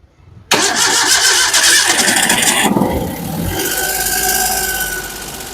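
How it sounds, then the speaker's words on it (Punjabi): A car engine with an overheating problem cranks and starts abruptly, then settles into a loud, steady idle with a continuous mechanical hum. "ਗੱਡੀ ਸਟਾਰਟ ਕਰੋ"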